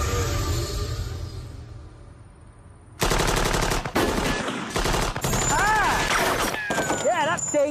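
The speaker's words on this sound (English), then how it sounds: "50 cal machine gun." A .50 caliber machine gun fires in loud, rapid sustained bursts after a quieter opening, with heavy repeated reports and ringing debris noise throughout.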